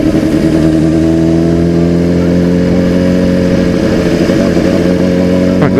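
Motorcycle ridden through the streets of Syzran, its engine a loud steady drone close up, with slight rises and falls in revs throughout and no talking.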